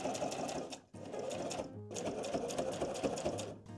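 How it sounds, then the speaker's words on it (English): Sewing machine stitching fabric to attach a fabric dollhouse bathtub to its base, a fast close whirring rattle in two bursts separated by a short pause. "now I'm going to take them to my machine and sew them down"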